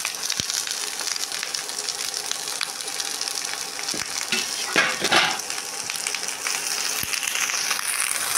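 Beans sizzling and frying in a pan, a steady crackling hiss throughout with occasional clinks and stirring sounds, fairly close and even in level.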